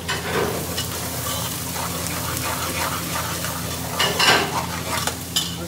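Katla fish pieces turn in a frying pan with onions, giving a steady sizzle under soft scraping and a few clinks of a utensil against the pan, with no talking.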